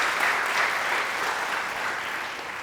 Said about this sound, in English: if we want to give her a round of applause, she can hear it